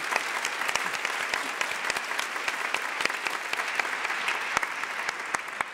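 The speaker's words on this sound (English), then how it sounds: "give her a round of applause" A large audience at a talk applauds steadily, with dense even clapping and occasional sharper individual claps standing out, holding at a constant level throughout.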